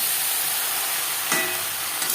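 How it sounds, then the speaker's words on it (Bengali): Eggplant and potato pieces fry in hot oil over a high-to-medium flame, giving an even, continuous sizzling hiss with one brief louder flare near the end. "বেগুন ভাজবো হাই টু মিডিয়াম ফ্লেমে।"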